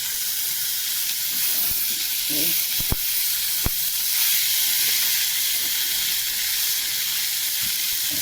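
Minced meat frying with potatoes and capsicum gives a steady, close hiss of sizzling, broken by two sharp clicks of a utensil against the pan.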